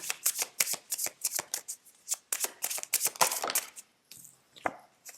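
A deck of oracle cards is handled and cut close up, giving crisp riffling and slapping card sounds in rapid, irregular bursts with no voice.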